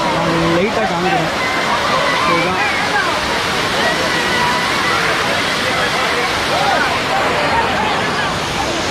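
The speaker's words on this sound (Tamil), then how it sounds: "தண்ணி வந்துட்டு நல்லா அலை மாதிரி அடிச்சுட்டு வருது" Kumbakarai Falls waterfall sends water crashing and surging in wave-like pulses, a loud, dense, steady roar that fills the scene, with a voice faintly audible at the start.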